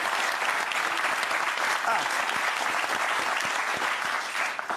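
A studio audience applauds on a French television talk show, a dense, steady wash of clapping that runs throughout and eases slightly at the end.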